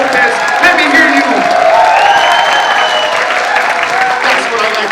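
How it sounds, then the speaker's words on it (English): A poetry-night audience claps and cheers for a poet leaving the stage, steady crowd applause with whoops and a voice talking over it throughout. "keep on clapping. Keep making noise for the next poet on this stage"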